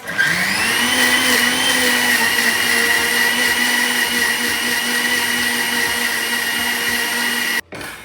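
A mixer blending aloe vera and leaves for homemade hair oil whirs loudly and continuously at high speed, its steady motor whine holding for several seconds before cutting off abruptly near the end.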